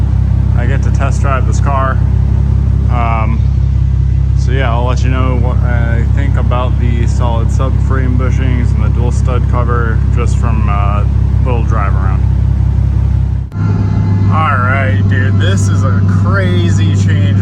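A Nissan 370Z engine drones loudly and continuously up close while driving, under ongoing talk, then the tone shifts to a higher steady hum near the end.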